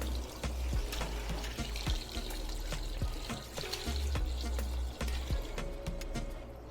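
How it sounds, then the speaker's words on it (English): Barbecue sauce pours slowly into a bucket of chicken quarters, a continuous close liquid gurgle and splash running throughout with no talking. "Pour it slow so you don't splash."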